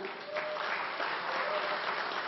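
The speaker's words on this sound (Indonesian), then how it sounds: "Tepuk tangan buat Anda semua." A seated audience in Blitar applauds students at a seminar, producing a steady, dense wash of clapping that holds at an even level from start to finish.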